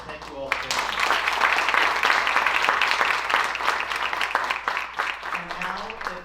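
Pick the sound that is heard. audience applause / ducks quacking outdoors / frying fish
audience applause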